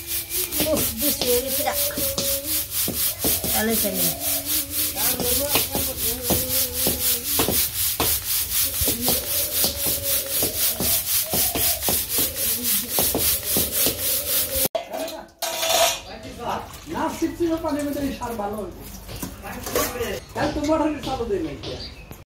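Mustard seeds being shaken and winnowed to clear out dirt, a quick rhythmic rasping shuffle repeated again and again, with someone talking over it and the motion halting near the end.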